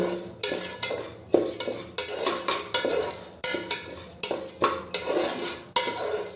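Rice stirred over a low gas flame inside a pressure cooker to dry it, a utensil scraping and clanking against the metal pot in steady repeated strokes, close and loud, no talking.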